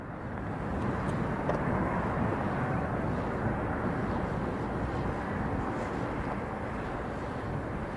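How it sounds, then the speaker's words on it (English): Qantas Boeing 747 cargo aircraft operated by Atlas at Chicago O'Hare, a steady broadband jet roar that holds at an even loudness throughout, with no talk over it. "Qantas does fly the 747 cargo variant here, operated by Atlas."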